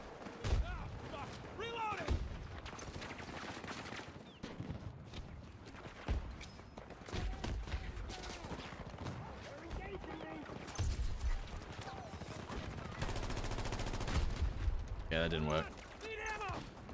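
Battlefield 2042 firefight with the VHX gun: scattered single shots and short bursts ring out at moderate volume, some near and some distant, beneath steady talking, with a louder sustained burst toward the end.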